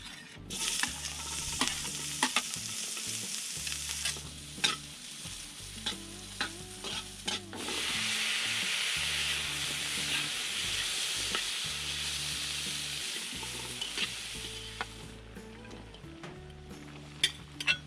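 Food sizzles and fries in cooking oil in a pan, a continuous crackling hiss with periodic stirring scrapes and a louder surge of sizzle midway, no talking.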